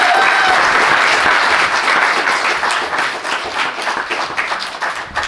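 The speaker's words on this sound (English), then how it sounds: "Let's give him a round of applause." A convention audience breaks into loud, dense applause that starts strong, then thins gradually into more scattered individual claps toward the end, with a brief tonal whistle of feedback at the start.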